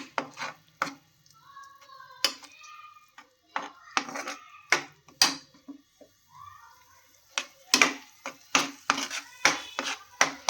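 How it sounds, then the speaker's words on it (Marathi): Grated carrot is stir-fried in a pan, with sharp, irregular clacks of a utensil striking the pan up close, some of them in quick bursts, and brief talk between the strikes. "हा परतून घेऊ गाजराचा किस."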